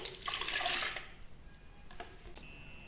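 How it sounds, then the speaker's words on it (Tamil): RO water being poured into a bowl, a close splashing gush for about a second that quickly trails off into faint drips and small clinks. "200 ml ஆர்ஓ வாட்டரை இந்த பவுலில் வந்து ஊற்றிக்கலாம்."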